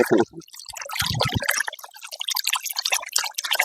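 Water splashes close by as bullocks are washed with soap, in irregular wet slaps and drips that keep coming in quick bursts.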